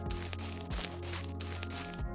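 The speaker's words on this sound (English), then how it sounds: "I'm just working on adding some footstep sound effects." Footstep sound effects in a zombie explosion video game, repeated thumping steps over a loud, dense game soundtrack with low droning tones.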